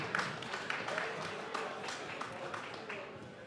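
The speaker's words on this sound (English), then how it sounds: "So give yourselves a round of applause for being here." Audience at a talks festival in a music venue claps for itself, a moderate roomful of applause that stays fairly steady and a little distant for a few seconds.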